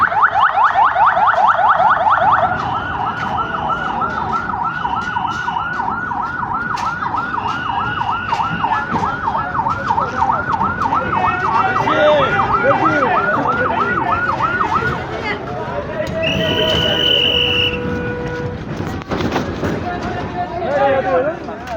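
Fire service vehicle sirens wail loudly as they arrive at a bus set on fire in Dhaka's Uttara Sector 12, a rising and falling siren cycling repeatedly before shifting to other tones, with people talking and shouting underneath.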